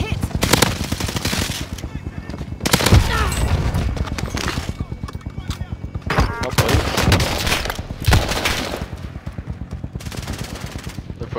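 Rapid, loud machine-gun bursts from an MP40 in the Warzone video game, sustained automatic fire in repeated volleys while a player talks excitedly over it.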